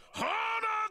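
A short, drawn-out groaning cry from a Yurukill video game character, a single strained vocal wail rising and then holding, with a brief break before it trails off.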